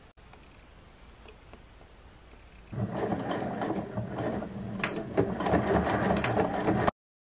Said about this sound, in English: then you just go ahead and stitch around as a top stitch